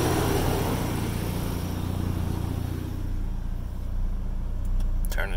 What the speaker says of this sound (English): Pulley is spinning.